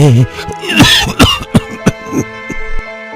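A person coughs and clears their throat loudly several times in short, harsh bursts, close by.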